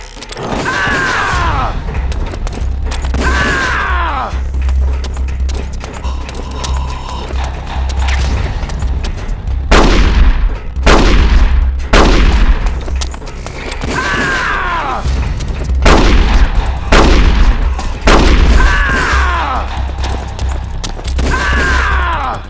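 Battle gunfire in Metal Gear Solid: The Twin Snakes: loud, dense bursts of shots and heavy booms over a continuous low rumble, with sharper volleys recurring through the fight.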